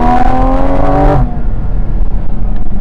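A Porsche GT4 RS engine revs hard while driving, then cuts sharply into an upshift. Its loud rising howl drops to a deeper, rumbling drone as the car keeps moving.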